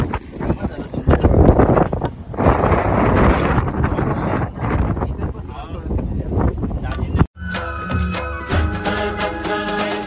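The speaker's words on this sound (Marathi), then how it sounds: "इकडे भरपूर वारा आहे" Strong gusting wind on Girnar mountain near Junagadh buffets the microphone in loud roaring surges, cut off abruptly before a different steady noise takes over.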